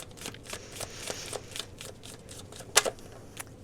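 Tarot cards being shuffled during a reading, a run of soft riffling flutters in quick, irregular bursts with one sharper snap near the end, close and quiet with no talking.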